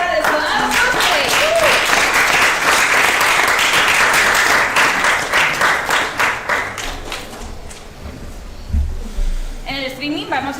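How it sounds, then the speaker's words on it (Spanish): Loud, dense applause fills a convention stage after a cosplay group's contest performance at CometCon, then thins into scattered claps and fades as a voice begins speaking at the end. "Pues un fuerte aplauso para el Sonado Cosplay."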